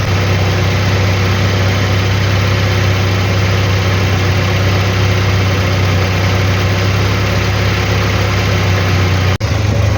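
Car engine idling with the radiator cooling fan running, a loud, steady low drone with an even whir that continues unbroken and then briefly cuts out near the end.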